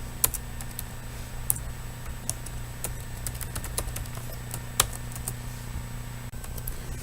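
Someone types an email and password on a computer keyboard in a quiet room: light, scattered key taps over a low steady hum, with no talk.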